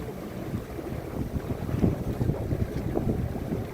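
A canal tour boat moving through Copenhagen's historic harbour, with a steady low engine rumble, water wash and gusty wind noise buffeting the microphone, continuous and fairly close.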